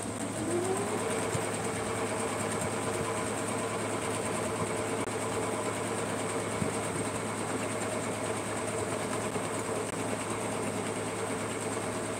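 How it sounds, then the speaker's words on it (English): A sewing machine stitches a quilt block, humming in a steady, even drone that runs continuously at moderate level with no talking. "let's give this one right here a sew down"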